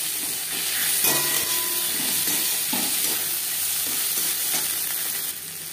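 Tomato goes into a pan of fried onion and garlic for a fish bharta, giving a loud close sizzle with clicks and scrapes of stirring that settles into steady frying.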